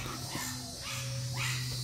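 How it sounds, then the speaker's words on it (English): Excited puppies at home make faint, close whimpering and yipping sounds over a steady low hum, with no clear loud barks. "Sorry about the puppies. They're excited that we're home."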